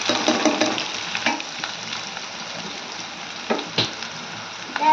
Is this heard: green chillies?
yes